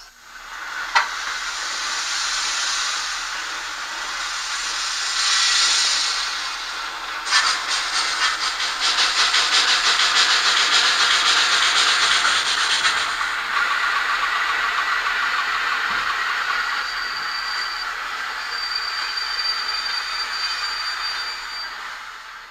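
Running sounds from a PIKO N scale BR 82 steam locomotive sound decoder: a steady, loud chuffing hiss plays continuously, with a brief high tone near the end and no talking.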